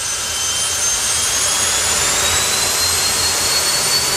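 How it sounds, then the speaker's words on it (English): A jet turbine engine of roughly 10,000 thrust horsepower spools up with a loud, continuous roaring whine that stays close and steady throughout, with no voices. "Martin Hill winds up the turbine, and Richie pulls them out in front of the tower."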